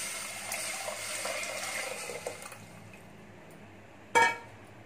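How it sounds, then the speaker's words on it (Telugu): Water from strained tomato pulp being poured into a pot for tomato rasam: a soft trickling, splashing flow that fades out, followed by a sharp clink of glass or metal near the end. "ఆ నీళ్ళు వేసుకుందాం"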